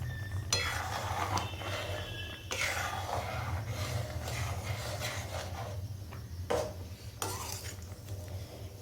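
Date palm jaggery being stirred into sora pithe in a pot, heard as repeated close scrapes and clinks of a spoon against the metal pot over a low steady hum, with no one talking.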